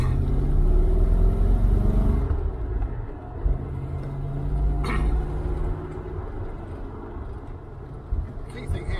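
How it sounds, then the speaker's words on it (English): A Triumph Stag fitted with a new differential pulls away in first gear, a loud close engine rumble that eases off and settles into a lower steady drone, with someone talking over it. "With a new diff on there, it's a lot easier pulling away in first gear"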